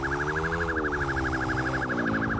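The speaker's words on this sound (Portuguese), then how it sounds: "Aqui tem a sirene da viatura, ó." A police car siren in a GTA-style motorcycle and car video game wails in a fast, rapid warble, loud and continuous over an engine hum.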